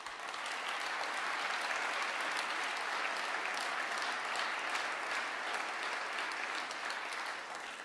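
Sustained applause from a ceremony audience at a corporate New Year's greetings event, dense and steady throughout, with no speech over it.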